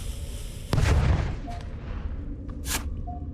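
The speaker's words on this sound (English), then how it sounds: "Okay, throw another grenade." A grenade explosion, one sharp loud boom with a rumbling tail that slowly fades, followed by a fainter burst a couple of seconds later.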